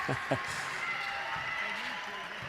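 Basketball crowd at the packed Solent Sports Complex during an NBL game, Solent Kestrels against Worthing Thunder, a steady wash of cheering and applause filling an indoor arena, with a couple of sharp shoe squeaks or thumps near the start.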